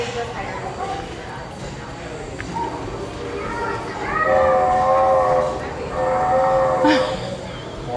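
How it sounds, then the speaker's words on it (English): A train whistle sounds in sustained tonal blasts, rising over a busy room with people talking in the background, in Old Sacramento, California. "Harry, time for the whistle"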